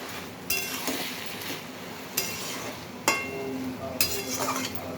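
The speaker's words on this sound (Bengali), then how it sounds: "এবারে ভালো করে নেড়ে নেব।" A spoon stirs bottle gourd curry with ghee in a pan, giving several sharp clinks and scrapes against the metal over a soft background sizzle, close and fairly loud.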